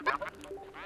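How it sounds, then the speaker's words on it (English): Birds call in the snowy clearing of Journey of the Broken Circle, a few short, nasal, quack-like cries close together in one brief burst. "Listen to the birds."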